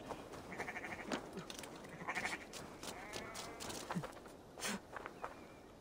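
Sheep in Assassin's Creed Valhalla bleat repeatedly at close range over soft ambient game sound, several short calls spread across the moment with faint footsteps.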